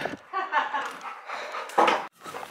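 Dogs pant and huff close by near a river, breathy bursts with brief pauses, fairly quiet and outdoors.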